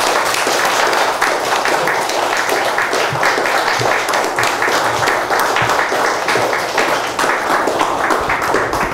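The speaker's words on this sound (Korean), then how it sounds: "큰 박수로 한번 부탁드립니다" Sustained loud applause from a gathered audience welcoming a professor to the lecture stage, many hands clapping in a thick continuous wash that carries on for about nine seconds.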